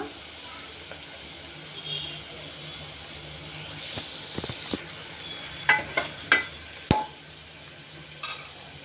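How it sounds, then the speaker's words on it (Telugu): Drumstick and tomato curry with salt, chili and turmeric being stirred in a pan, a soft sizzle under several sharp scraping and clanking strokes of the spoon, close by. "ఇలా బాగా కలపాలి ఉప్పు కారం పసుపు మొత్తం వేసాం కదా"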